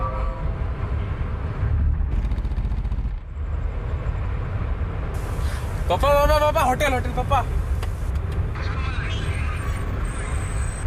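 A car on a long road trip, a steady low engine and road rumble from inside the cabin, running throughout while children and adults talk and call out over it.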